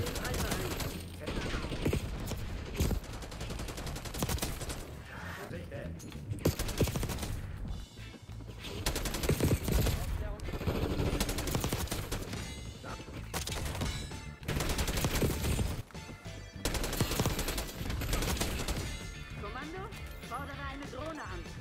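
AK-47 fire in the game Black Ops 6, dense bursts of automatic shots packed close together across the whole stretch, loud and continuous with short gaps, mixed with busy game sounds and a voice talking over it.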